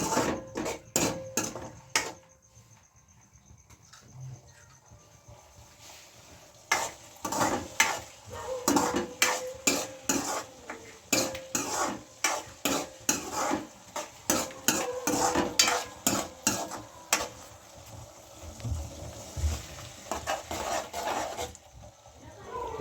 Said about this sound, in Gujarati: હવે આપણે 5 થી 7 મિનિટ હલાવશું।